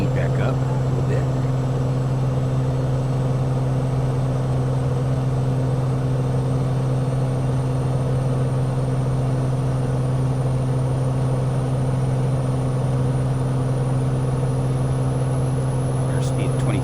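Light aircraft engine held at 2600 RPM inside a flight simulator game, a steady, unbroken droning hum with a deep tonal core that stays constant for the whole stretch with no talking over it.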